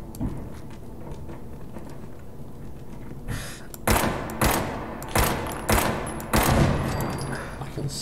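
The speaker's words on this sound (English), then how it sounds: "I can see a machine gun turret up there." Machine gun turret opening fire in Fallout 4, starting with a low rumble and then several loud, close bursts of automatic gunfire with short pauses between them.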